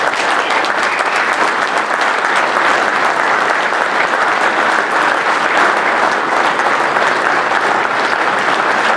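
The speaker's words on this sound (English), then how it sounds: "Would you please welcome a round of applause and honor Tim and Joyce" Loud, sustained applause fills the room at a baseball hall of fame induction ceremony in a hotel ballroom, a dense, unbroken round of clapping from a large crowd.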